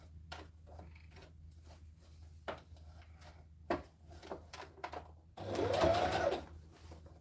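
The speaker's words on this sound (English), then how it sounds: "Also a good way to practice top stitching at speeds." A sewing machine top stitching at speed during charity sewing, with scattered light clicks and handling taps before a brief, steady whirring run of the motor near the end.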